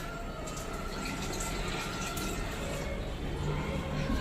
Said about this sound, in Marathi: तर आता पाणी टाकते